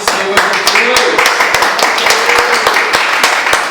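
Sustained clapping from a church congregation fills the space, steady and dense, with a voice and ringing sound underneath.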